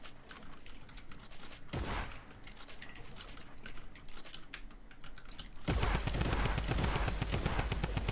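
Rapid automatic gunfire bursts from a Fortnite Battle Royale match, crackling in fast clustered volleys that swell louder and denser toward the end, with game effects underneath.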